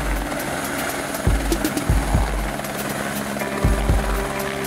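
A tour helicopter's steady rotor and engine drone fills the scene over the Grand Canyon, with a few louder swooping thumps as it passes close by.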